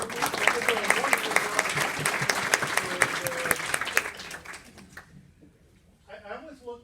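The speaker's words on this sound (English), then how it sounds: "So for better applause, let's say thank you to Jesse and Alicia and the rest of the folks from the cafeteria." Dense round of clapping from an audience thanking cafeteria staff at a hospital heart-health dinner class, steady and loud for about five seconds before fading to a few scattered claps, with a voice briefly talking at the end.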